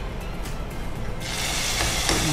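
Hot tempering (oggarane) of cashews and raisins hisses and crackles in a pan for date payasa, a steady broadband sizzle that swells louder midway and holds close, with no voices.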